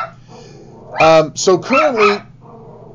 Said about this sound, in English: my dog is going to be barking.